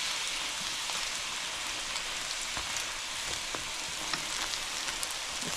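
Saltfish fritters fry in a pan of hot oil, giving a steady, loud, close sizzle with faint pops throughout and no voices.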